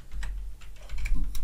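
Keys clacking on a computer keyboard while code is entered, a quick run of light, close clicks in a steady rhythm with no talking.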